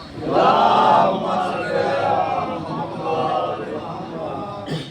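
Crowd at a 3 Shaban religious mahfil answering a call for salawat, a loud collective chorus of voices rising together, strongest at first then continuing in a sustained group recitation.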